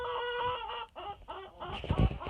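Hens in a backyard flock of about 27 birds cluck and squawk close by in the coop, a busy overlapping run of calls with no talk.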